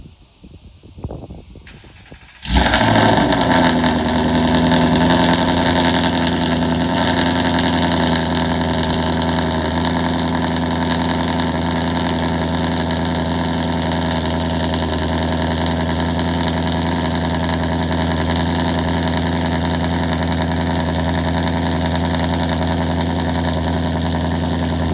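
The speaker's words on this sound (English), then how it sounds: "go ahead and give it a cold start and a remote rev or two, let you guys hear it" A 2024 Ford Mustang GT fitted with a Corsa Xtreme cat-back exhaust and Kooks catless long-tube headers cold starts with a sudden loud roar after a brief crank, then holds a deep, steady high idle that slowly settles.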